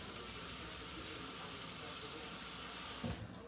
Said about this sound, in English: I gotta put water in it